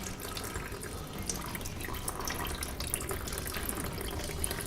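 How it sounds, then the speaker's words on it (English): Engine coolant drains out of a Vulcan 750 motorcycle in a steady close pour, an unbroken watery splashing and trickling that holds an even level throughout with no voices. "Luckily coolant isn't corrosive, so you can just let it flow"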